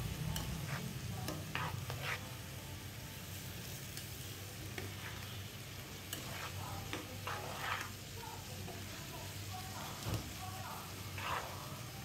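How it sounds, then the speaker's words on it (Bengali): Onions fry in oil with garam masala in a home kitchen pot before rice goes in for pulao: a faint, continuous sizzle broken by scattered stirring scrapes and clicks. "এখন গরম মশলার সাথে তেল দিয়ে পেঁয়াজটাকে একটু ভাজা ভাজা করে নিচ্ছি"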